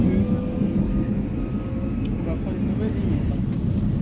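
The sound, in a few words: metro train ride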